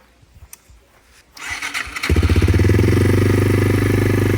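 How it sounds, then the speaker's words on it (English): A small engine with its choke pulled, cranked from a lithium battery: a brief starter whir catches and settles into a loud, steady, fast-pulsing idle close by, with no talking. "And we'll pull out the choke a little bit. See if she fires up."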